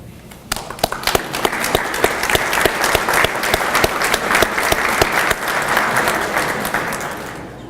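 Sustained applause from an evening donor reception crowd honoring a foundation board of directors, dense steady clapping with sharp individual claps standing out, building quickly and holding for several seconds before tapering slightly.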